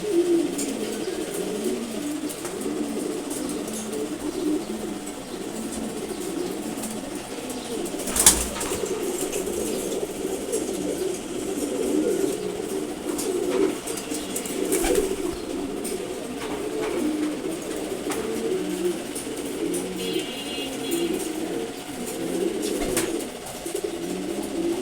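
Sobji Gorra pigeons keep up a continuous rolling coo close at hand, with occasional sharp bursts of wing flapping cutting through the steady murmur.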